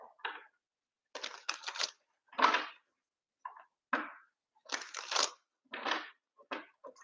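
Oracle cards being shuffled by hand give a series of crisp papery riffles and snaps in irregular bursts with short silences between, close and fairly clear.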